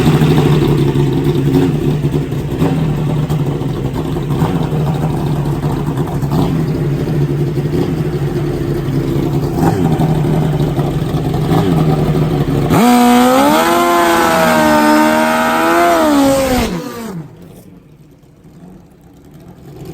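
Nitrous Pro Mod Suzuki drag motorcycles of about 600 horsepower idle with a loud, rough drone, then one engine revs hard in rising and falling bursts before cutting off abruptly.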